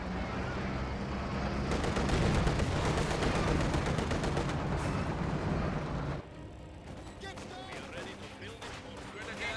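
MG34 machine gun firing in Company of Heroes 2, rapid bursts of automatic gunfire mixed with explosions and battle noise, dense and loud before easing into quieter, scattered combat sounds.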